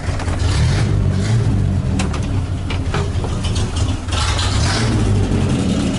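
A Chevrolet Opala idles close by with a misfire, its low engine rumble loud and continuous but uneven, with brief dips and stumbles.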